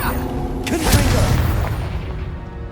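Confringo fire-blast spell cast in the Hogwarts Legacy video game, a loud whooshing burst that swells into a booming rumble and slowly fades.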